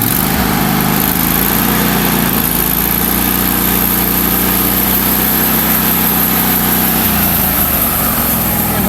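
A sawmill engine runs loud and close for the whole stretch, a steady rough drone with a slight drop in pitch near the end, with no voices over it.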